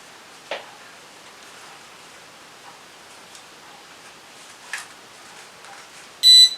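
A short, sharp electronic beep from a drone remote controller (Aviator 8811 Pro) sounds near the end after a long stretch of quiet hiss with a few faint clicks.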